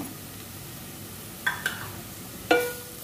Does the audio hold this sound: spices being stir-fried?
yes